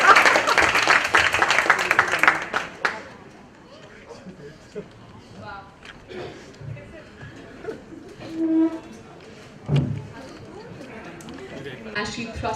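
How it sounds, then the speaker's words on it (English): At a Bollywood book launch event, audience applause bursts loud for the first few seconds and then cuts off, followed by scattered chatter, movement and a few brief sounds in the room. "Let's all clap for Isha."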